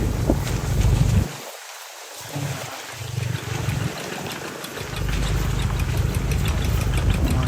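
A tractor engine runs with a rough, steady drone that drops away briefly and then returns, heard outdoors in rural Indonesia.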